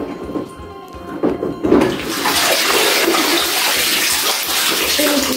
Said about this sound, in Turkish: İçinde bir sürü su var. Su giriyor değil mi Erdem?